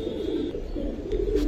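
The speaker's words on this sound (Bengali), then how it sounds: "পুরোনো জাতের একটা কবুতর, অনেক সুন্দর।" An old-breed Giribaz pigeon coos with soft, low, rolling burbles close by, repeated in a gentle pulse with no talking.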